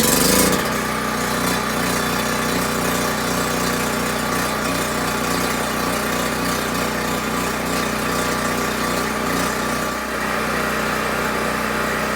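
A Harbor Freight portable generator runs close by under a welding load, a loud, steady engine drone with constant mechanical vibration and no break throughout.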